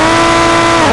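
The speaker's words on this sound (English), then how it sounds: "I do not know where they got this car sound from." Loud, harsh car engine revving in the mobile driving game Car Parking Multiplayer, a buzzy sustained drone with strong harmonics held for a second.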